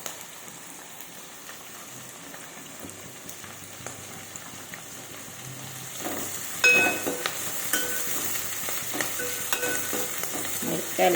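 Onion, spring onion and chillies frying in a pan, a soft continuous sizzle that grows louder and busier partway through with crackling spits and pops, close and alone.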